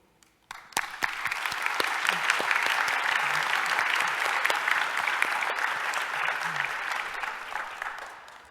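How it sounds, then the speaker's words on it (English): Sustained audience applause at an awards luncheon, a dense wash of many hands clapping steadily for several seconds after a brief quiet start, then tapering slightly. "let's have one more round of applause for our incredible SSA community"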